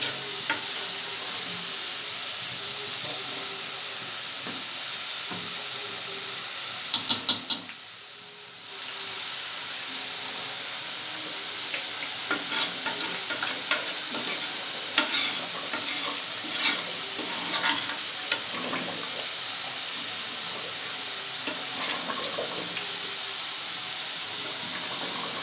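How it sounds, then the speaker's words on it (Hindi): Arvi gosht, taro root with meat, sizzles steadily as it is stirred and fried in a pan, with scraping strokes of the spoon throughout and a short break in the middle; no talking. "इसे 5 मिनट तक मैं भूनूंगी।"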